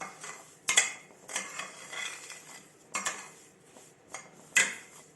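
Semolina and sugar stirred together in a pan for halwa, with a spoon scraping and clinking against the metal in several sharp bursts between quieter rustling.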